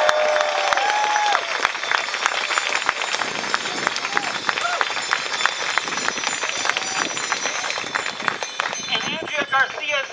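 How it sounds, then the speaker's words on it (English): Outdoor crowd at a bike-lane rally in Toronto applauds, a dense, continuous clatter of clapping and some cheering, with a chirping whistle-like sound and a voice heard at times over the hands. "Let's have a round of applause for her."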